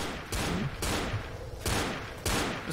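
Repeated pistol gunfire in the zombie shooter Left 4 Dead, about four loud, sharp shots spaced roughly half a second apart, each with a short ringing tail and no talking.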